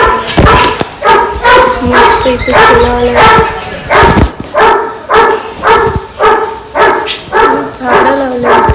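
A village dog in Konkan barks in a repeated rhythmic series, loud and close, with some yips mixed in, while someone talks briefly over it.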